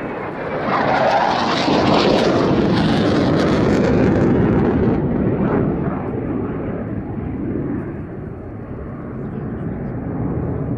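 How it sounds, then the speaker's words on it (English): A Saab Draken jet fighter flies a display pass at an air festival, its loud afterburning roar building to a peak and then fading off. A commentator's voice is heard over the engine. "the stunning display by the fabulous Saab Draken"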